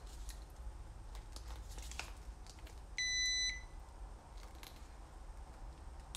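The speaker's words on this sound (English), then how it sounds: "That's the jump rope beeping." A short electronic beep from a digital jump rope sounds once, clear and fairly close, over faint rustling and soft handling noises.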